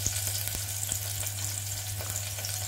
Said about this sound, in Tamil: அந்தளவுக்கு மட்டும் ஃப்ரை பண்ணிக்கோங்க.